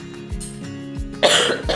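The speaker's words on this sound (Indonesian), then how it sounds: "Batuk mulu nih." A person coughs several times in quick succession, close and fairly loud, with a sharper burst near the end.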